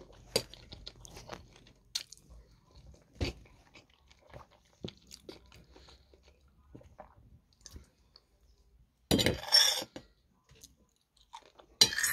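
A video game character eating cheese, heard as a series of sharp, close crunching and chewing bites scattered over quiet stretches, with a louder burst of munching near the end.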